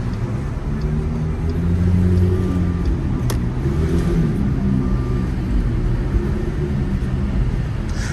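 A passing Alfa Romeo car drives alongside in New York City traffic, a loud continuous engine rumble and tyre roar heard from inside a vehicle, with a faint clunk partway through and no speech.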